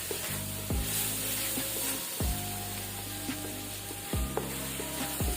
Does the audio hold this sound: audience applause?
no